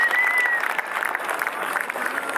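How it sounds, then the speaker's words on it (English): Crowd applause for surfer Matt McGill at the WSL J-Bay Open as he paddles out, a steady wash of clapping with some cheering, moderately loud and continuous. "Let's give him a round of applause as he heads out to the channel."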